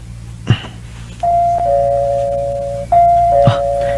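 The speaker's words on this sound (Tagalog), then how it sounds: "Mag-doorbell ako." A doorbell chimes twice with sustained electronic tones, each ring opening on a short knock-like thump, loud and close.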